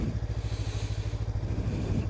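A motorcycle creeps along at walking pace under clutch control, its engine giving off a low, steady, throbbing putter, close and fairly quiet.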